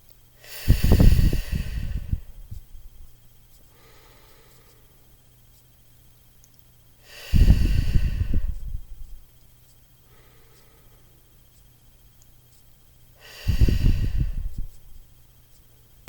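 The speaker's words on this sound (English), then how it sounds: "You want to have nice deep breaths that go all the way down into your abdomen" Slow, deep abdominal breaths during a guided breathing exercise: three long, loud inhales and exhales, each lasting a couple of seconds and spaced about six seconds apart, with soft airy pauses between them and no talking.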